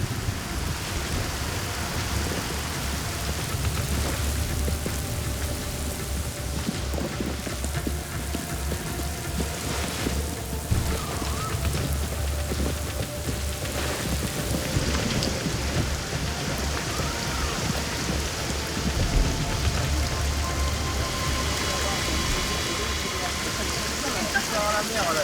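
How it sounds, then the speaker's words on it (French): Heavy tropical rain pours down in Cambodia, a dense, continuous hiss of drops hitting surfaces that stays loud and unbroken throughout, with faint rumbling beneath. "C'est un déluge qui s'abat sur les taquets."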